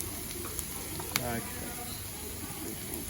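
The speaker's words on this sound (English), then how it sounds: "stirring the garlic through now. Getting a little bit of colour onto those onions." Onions and garlic fry in a hot pan, a steady low sizzle running through with a brief clatter of stirring near the middle; a voice is faintly present.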